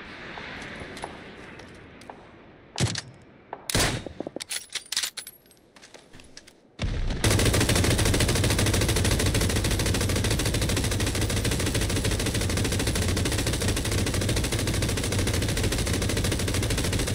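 M249 machine gun fire in a video game: a few scattered sharp shots and clicks, then a sudden loud, sustained burst of rapid automatic fire running unbroken for about ten seconds.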